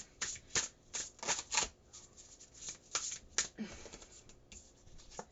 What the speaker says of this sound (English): now we're going to go ahead and pull some of our abundance cards